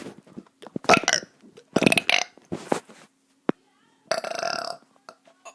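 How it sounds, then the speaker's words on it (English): A child burps repeatedly up close, four or five loud, drawn-out belches separated by short pauses, with a brief sharp click between them. "let's get to some burps"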